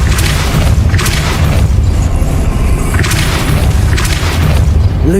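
Depulso spell impact in Hogwarts Legacy, a loud, dense booming blast filling the whole stretch with rumbling low end and repeated crashing surges, no talk.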